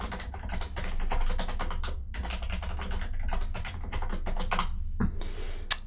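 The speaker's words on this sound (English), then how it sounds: "And then you can type in a password." A password is typed on a computer keyboard in quick, close clusters of sharp key clicks, with a short pause near the end before a few final taps.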